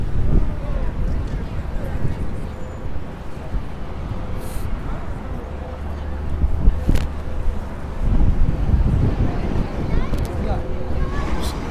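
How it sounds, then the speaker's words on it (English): Strong gusty wind outdoors in Times Square, New York City: a heavy rumbling buffet on the microphone, loud and continuous with surges, mixed with distant city noise. "Strong wind."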